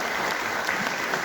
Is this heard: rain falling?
no